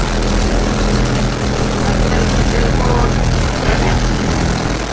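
A fishing boat's two engines drone steadily at sea, a loud, dense, continuous rumble that stays even throughout with no clear voices over it.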